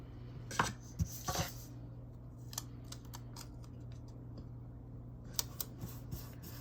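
Scissors snip through a sheet of mini planner stickers, a few quick crisp cuts near the start and more scattered light snips later over a steady low background hum.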